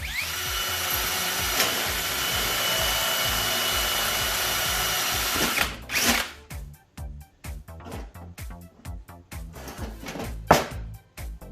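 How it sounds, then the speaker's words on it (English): A power drill with a 1/8 inch bit drilling rivet holes in a car ECU mount: a steady, continuous whine for several seconds, then it cuts out into a series of short, irregular scraping and clattering bursts. "so time to drill some holes."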